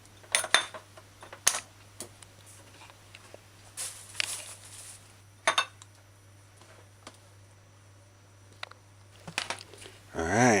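Knife chopping cho-cho (chayote) into quarter cubes on a board: scattered sharp clicks and taps in small bursts, fairly quiet with gaps between cuts, plus a brief clatter at the end.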